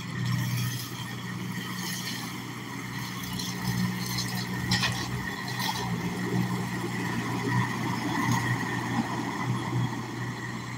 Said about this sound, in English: You see that truck going by there is going a lot faster than 25 miles an hour